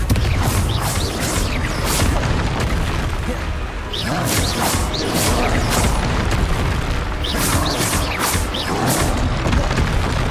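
Repeated fiery Confringo spell blasts in Hogwarts Legacy boom out one after another, loud and dense, with whooshing bursts layered over a continuous rumble of combat.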